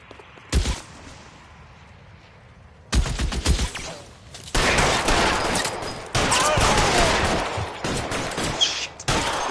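Gunfire in an L.A. Noire video game shootout, with single sharp shots and then sustained rapid bursts and heavy volleys up close.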